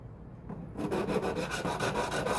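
A diamond recrowning file rubs back and forth over medium stainless steel frets on a vintage Alvarez 12-string guitar, close and steady rasping strokes in a quick repeating rhythm with no talking.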